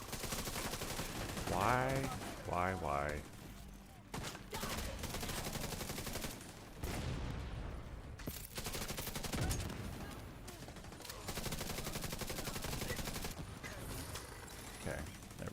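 A deployed turret in The Division 2 fires rapid bursts of gunfire in a loud, chaotic firefight, with a person's brief exclamation heard mid-burst.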